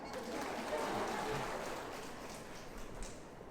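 Audience applause at a school event of St Nirmala convent group of schools: a steady, faint wash of many hands clapping, sounding somewhat distant and rain-like, holding throughout and easing slightly toward the end.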